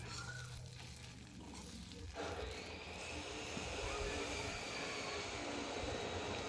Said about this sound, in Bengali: এবার আদা আর পেঁয়াজটাও আমি দিয়ে দিলাম। এবার দিয়ে দিলাম টমেটো আর ক্যাপসিকামটা।